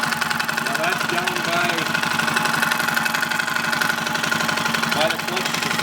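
A 2005 Suzuki King Quad 700 ATV engine with suspected motor problems idles steadily nearby, a rough, even rumble with a rapid rhythmic knock or tick running throughout, constant in level.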